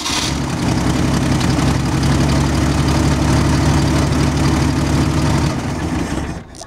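An M29 Weasel tracked vehicle's engine cranks and catches, then settles into a loud, steady, rumbling idle close by for several seconds before cutting off.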